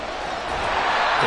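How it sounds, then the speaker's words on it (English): Loud, steady stadium crowd roar at a Miami Dolphins versus New York Jets NFL football game, a dense wash of noise that swells slightly toward the end and fills the whole moment. "this crowd making it hard to hear"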